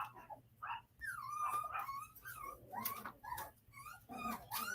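Several dogs bark, yip and whimper in an excited, irregular run of calls, heard at moderate distance outdoors near a lake, with no talking.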